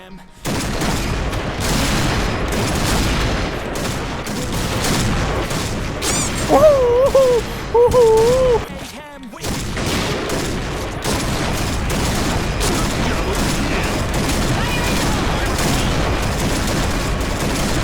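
Gunfire from the online shooter Point Blank crackles almost nonstop as dense, rapid volleys, with a voice talking over the shooting throughout.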